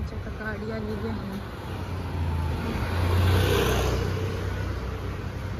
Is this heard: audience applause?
no